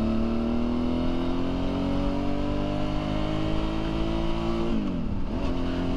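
A Suzuki V-Strom 650 motorcycle engine with a KTM exhaust drones steadily at cruising speed with a deep, throaty exhaust note, the pitch slowly rising before dipping briefly near the end.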